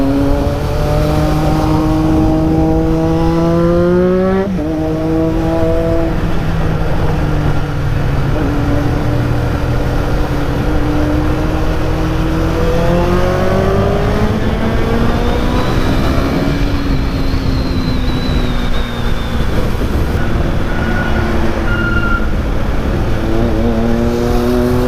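A loud triple-cylinder motorcycle engine revs and climbs through gears, its pitch repeatedly rising and dropping, with steady wind rush behind it.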